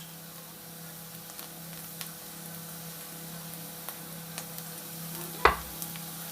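Garlic added to softened onions in a pan for a creamy mussel dish gives a quiet, steady sizzle, with a few light stirring clicks and one louder scrape near the end.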